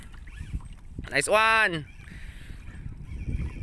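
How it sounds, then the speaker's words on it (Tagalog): Small fishing boat dragged through the water by a hooked fish, giving a brief rushing wash and creak against steady wind noise, with people talking over it. "Hinihila na yung bangka namin"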